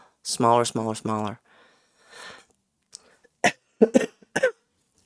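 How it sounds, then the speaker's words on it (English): A short voiced sound, then a few sharp, separate coughs close to the microphone, with quiet breathing between them. "Pardon my cough."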